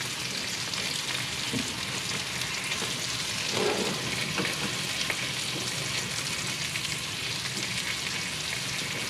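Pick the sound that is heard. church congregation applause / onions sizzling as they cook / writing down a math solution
onions sizzling as they cook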